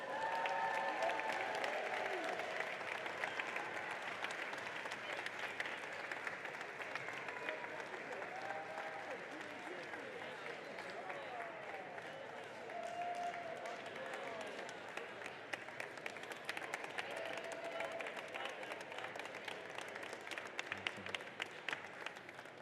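A crowd claps steadily through the awards ceremony at a FIRST Robotics district competition, dense sustained applause from a large audience in an arena, with voices and cheers mixed in beneath it.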